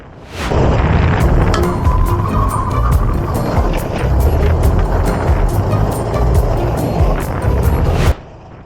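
Racing go-karts at speed on the Three Sisters circuit in Wigan, closing on a backmarker: a loud, continuous buzzing engine drone that holds steady close by for about eight seconds, then cuts off abruptly.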